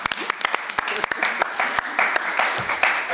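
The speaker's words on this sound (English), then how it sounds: "Big applause to my panel" An audience at a Lithuanian–German forum conference claps for a panel, a scattered then steady round of applause in a hall with a voice speaking over it.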